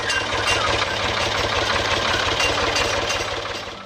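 A Ford 2000 small farm tractor engine runs at a steady idle with a rough, knocking diesel throb, close and loud, and no one speaking.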